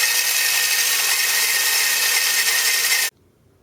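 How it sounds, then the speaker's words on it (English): Wire brush spun by a DeWalt drill scouring a red plastic tool-box latch, a harsh, loud, continuous scratching whir lasting about three seconds before cutting off abruptly. "I'm going to use a wire brush on a DeWalt drill,"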